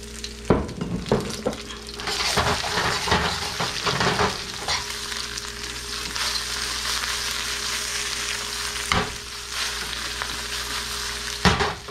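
Chili flakes, Szechuan peppercorns, garlic, ginger and green onions drop into a hot wok and fry with a loud, steady sizzle, broken by sharp scraping and stirring clatter near the start.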